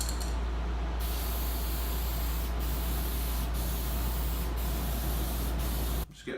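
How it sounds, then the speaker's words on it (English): Coats of lacquer being sprayed onto a generator control panel, a loud continuous close hiss running steadily, with a few brief dips before cutting off at the end. "So we'll spray a couple coats on this and let it sit before we put it together."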